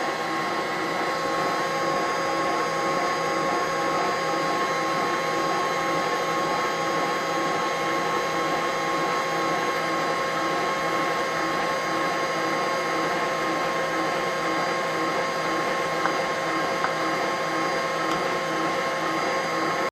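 An electric stand mixer runs steadily while kneading bread dough made with buttermilk and flour, giving a continuous loud motor whir with a constant hum and no pauses throughout.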